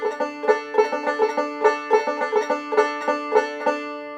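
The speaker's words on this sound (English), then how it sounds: "or we can use a more Scruggs style potato." Banjo picking a Scruggs-style potato intro of steady rolling plucked notes in an even rhythm, bright and close, played alone before a lesson on Arkansas Traveler.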